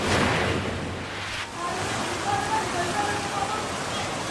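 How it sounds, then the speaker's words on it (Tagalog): Heavy monsoon-driven rain and rushing floodwater across flooded Cagayan de Oro, a steady broadband wash of water close by that holds loud and continuous, with a voice talking over it throughout. "Malaking bahagi ng Cagayan de Oro ang binaha dulot ng pag-ulan na hatid ng hanging habagat."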